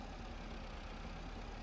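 Tractor engine in Farming Simulator 22 drones steadily under load, a dense low rumble that holds constant and fairly quiet throughout, with no talk.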